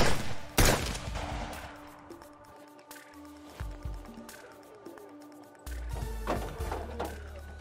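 Gunshots ring out in a Yoruba movie scene: a sharp crack at the start, then scattered thuds and a cluster of louder shots near the end over a low rumble, with no talk during the firing.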